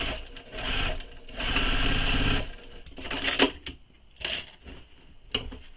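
A sewing machine stitches a handbag lining in bursts, with a loud, rapid mechanical whirr that stops and restarts several times, punctuated by clicks of the fabric being handled.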